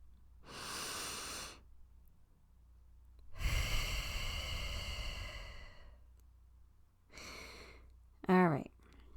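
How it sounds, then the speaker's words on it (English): Deep breathing in a quiet room: three long, slow breaths in and out, each a soft airy rush lasting a second or more, close to the microphone, ending in a brief throaty sound. "Take a deep breath with me."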